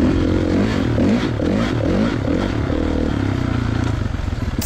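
A 2016 Kawasaki KX450 dirt bike rides through woodland trails, its engine loud and close with a throbbing, shifting note that rises and falls as the throttle opens and eases.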